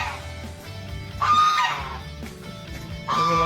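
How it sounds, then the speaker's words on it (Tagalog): Turkeys and other farm fowl calling in a yard after a typhoon, with a couple of bright honking, gobbling bursts rising over a steady low clucking murmur, fairly close and loud. "Yan yung mga pabo natin guys."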